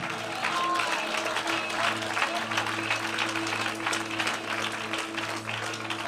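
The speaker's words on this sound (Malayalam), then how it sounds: "കൈയടിക്കുന്നെങ്കിൽ നല്ല കൈയടിക്കണം." A church congregation at a Malayalam Christian service claps their hands together in sustained, dense applause, loud and close, rolling on without pause for several seconds.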